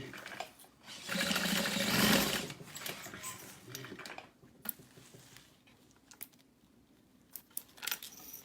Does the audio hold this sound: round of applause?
no